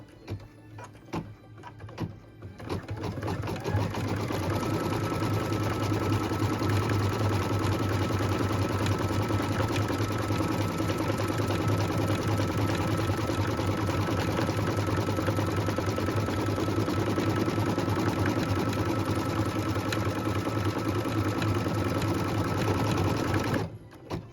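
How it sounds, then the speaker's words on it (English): An embroidery-style sewing machine stitches a tack-down line on raw-edge felt applique, starting after a few soft clicks and then running as a steady, fast, loud mechanical chatter for about twenty seconds before stopping. "we'll go ahead and stitch the tack down line"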